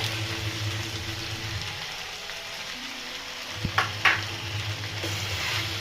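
Pumpkin palya with grated coconut is mixed in a pan over a low, even sizzle, with a low hum underneath and a few sharp scrapes and clatters of the spoon near the end.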